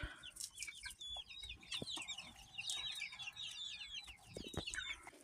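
Chickens cluck and chirp softly in a busy flock, with scattered short calls overlapping against light background noise.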